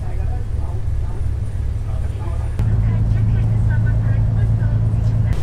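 A ferry on the crossing from Penang to Langkawi gives off a steady, loud, low engine rumble that grows heavier partway through, with voices speaking over it.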